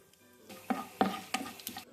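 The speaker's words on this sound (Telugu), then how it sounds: "ఆయిల్ వేడెక్కాక పోపు దినుసులు వేసుకోవాలి." Whole spices dropped into hot oil for tempering, crackling and popping in a series of sharp sizzling bursts that come close and moderately loud, with quieter frying between them.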